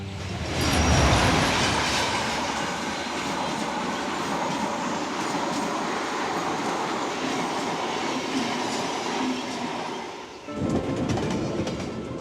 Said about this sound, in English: Peter French has been all over the world by train.